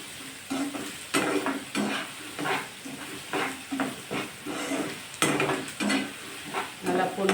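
Onions frying in a pan with salt added, for an egg thokku: a steady sizzle broken by repeated scraping stirs, close and fairly loud, with no one speaking.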